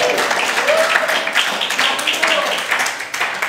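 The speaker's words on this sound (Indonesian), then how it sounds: "Beri tepuk tangan lu buat Yesus" A church congregation claps in a sustained, dense wash of applause, fairly loud and close, with a few voices calling out over the clapping.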